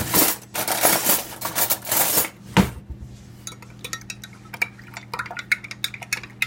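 A spoon clinks against a bowl or cup while a teaspoon of lemon juice is stirred into a cup of milk to make buttermilk, with a dense burst of clatter early and sparser light taps afterward, close and fairly loud.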